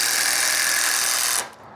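A Milwaukee impact driver drives a screw in a loud, steady buzzing burst of rapid impacts that stops abruptly, leaving quiet room tone.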